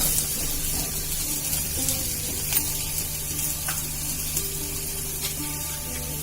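Chopped onion frying in hot oil with spluttered mustard seeds and cumin, a steady close sizzle running throughout with occasional light crackles and pops, no voices.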